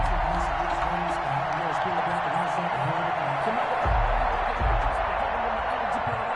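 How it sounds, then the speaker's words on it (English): Crowd applause in an American football video game, a dense, steady wash of clapping and cheering running throughout beneath a commentator's voice. "How about some applause for the defense there?"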